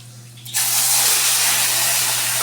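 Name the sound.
water running from tap left open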